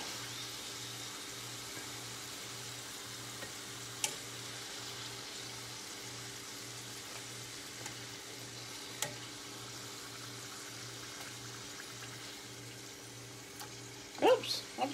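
Chiacchiere dough fries in hot oil with a steady, low, even sizzle and hiss throughout, broken by a few faint clicks and a short clatter near the end.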